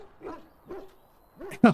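A dog barks in the fantasy RPG Dragon Age: Origins, giving a few short, close barks spaced apart, ending with a louder, sharper bark.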